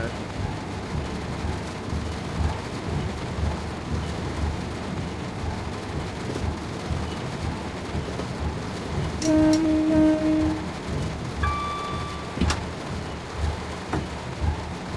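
Rain and thunder weather in the train simulator game Train Sim World 2, a continuous rain hiss with low rumbling, plus a few brief tonal electronic beeps near the end.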